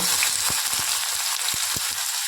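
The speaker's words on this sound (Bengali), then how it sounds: "দেখুন বন্ধুরা কড়াইতে তেল বসিয়ে নিয়েছি, গরম হয়ে গেছে। এবার এর মধ্যে খানিকটা কুচনো পেঁয়াজ" Chopped onion sizzles loudly in hot oil in a wok, a bright, continuous hiss with a few soft knocks from stirring underneath.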